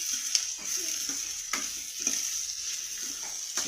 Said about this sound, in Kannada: ಈ ಕಲರ್ ಸಾಕಾಗಲ್ಲ, ಸ್ವಲ್ಪ ರೋಸ್ಟ್ ಆಗಬೇಕು ಈರುಳ್ಳಿ